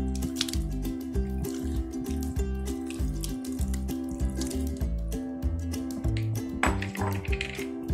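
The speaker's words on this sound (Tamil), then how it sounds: "மசாலா போய் சிக்கன்ல இறங்குற அளவுக்கு நல்லா மிக்ஸ் பண்ணி விடுங்க." Chicken pieces are mixed by hand with masala for chicken 65, making close, wet squishing and slapping sounds in a steady repeated rhythm over a low hum, with no talking.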